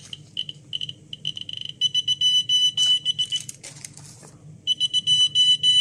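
A Radiacode-103 radiation dosimeter held near the radioactive source from a smoke detector beeps in rapid high-pitched bursts that quicken into near-continuous chirps, with faint rustling between them.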